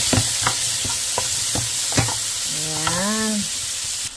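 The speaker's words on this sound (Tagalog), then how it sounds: "Tapos po ng ating mga panakot ay ilagay po natin yung shrimp." Frozen shrimp sizzling steadily in a hot pan while a spoon stirs and scrapes the metal in repeated sharp knocks, with a steady fry hiss underneath throughout.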